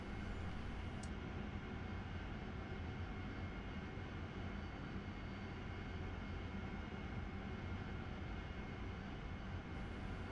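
Cockpit engine noise from an AV-8B Harrier jet in the DCS World flight simulator on a shore-based landing approach: a constant, dense turbine roar and rumble, steady and unbroken throughout, at a low level.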